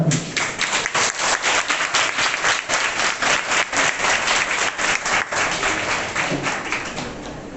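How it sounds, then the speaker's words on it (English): A hall audience at a nursing students' debate competition gives sustained, dense applause, many hands clapping steadily and loudly, tapering slightly toward the end. "So let us give a big clap for both parties."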